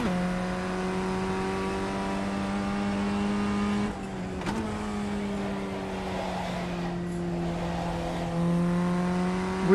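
Race car engine in the iRacing sim, a loud sustained drone with clear harmonic tones that dip at a gear change before climbing again as the car accelerates hard.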